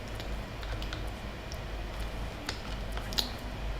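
Typing on a QWERTY computer keyboard during a Fortnite Battle Royale session, with soft scattered key clicks under a steady background hum and one or two sharper taps standing out.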